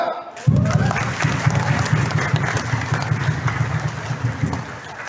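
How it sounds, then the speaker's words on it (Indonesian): An audience at a community meeting of online motorbike and car drivers in a hotel in Palembang breaks into applause after a brief quiet start; the steady, fairly loud clapping continues to the end. "Kita aplaus dulu semua"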